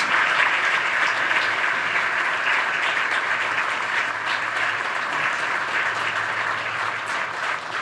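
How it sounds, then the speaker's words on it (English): A conference audience at a Raisina Dialogue panel applauds continuously, a dense, steady wash of many hands clapping that holds at an even level throughout with no voices over it. "Please join me in applauding this wonderful panel for their contributions."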